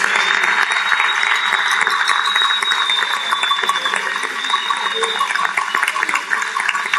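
A large crowd at a political party gathering claps steadily and loudly throughout, with a thin sustained whistle running over the applause.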